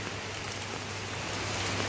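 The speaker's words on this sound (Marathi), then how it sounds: "पाऊस पाऊस जोरात चालू आहे" Steady, dense hiss of heavy rain pouring without pause, with a low constant hum underneath and no voices.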